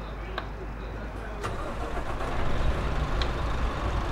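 A truck engine starting in a driving video game, a low rumble that rises and settles into a steady idle under someone speaking.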